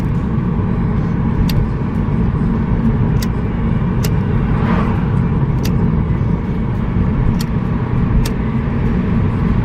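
Inside a moving car, a steady low road rumble and engine hum fill the cabin, with faint intermittent ticks, like an indicator, over the drone.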